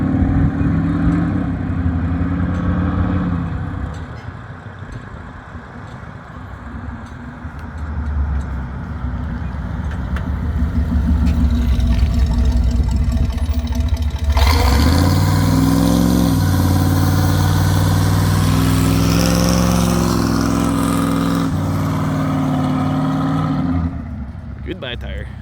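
A car's engine roars and revs hard through a tire burnout on gravel, loud and sustained, shifting to a higher strained pitch midway before dropping off near the end; voices talk over it.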